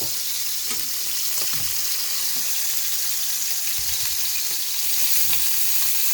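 Pork belly sizzles and crackles steadily in a frying pan just after being flipped, a dense, close hiss with occasional soft pops and faint utensil knocks underneath.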